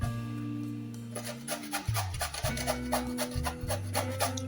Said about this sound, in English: I'm grating some pumpkin now.